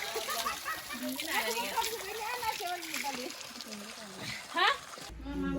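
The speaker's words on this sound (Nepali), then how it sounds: "ढुङ्गे धारा" A traditional stone water spout in Ghandruk village splashes and runs steadily under continuous nearby talk, the water a constant wash in the background with a brief louder splash near the end.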